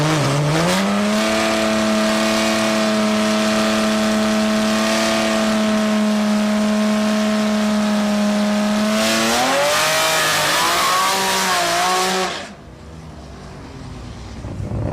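A Nissan Z32 with a naturally aspirated VG30 engine and nitrous revs hard at Sendai Highland drag strip, the engine note rising steadily through gears before a shift, then cutting off and fading away.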